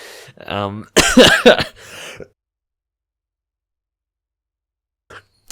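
A single harsh cough erupts in a burst from a man during a Black Ops multiplayer gaming session, following brief talk and then fading into silence.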